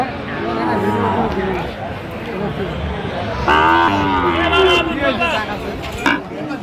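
Sahiwal cattle at a livestock market moo in long, loud calls close by, over a background of crowd chatter and people talking.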